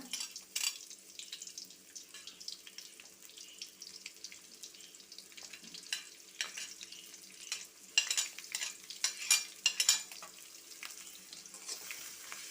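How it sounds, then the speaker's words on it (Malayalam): Chopped shallots frying in a pan for a Malabar tamarind curry, a soft, uneven crackling sizzle with irregular bursts of stirring, fairly faint and steady throughout with no voices. "ഇതൊന്ന് ബ്രൗൺ നിറമാവണം വരെ ഒരുവിധം ഒന്ന് മൂപ്പിച്ചെടുക്കണം കേട്ടോ"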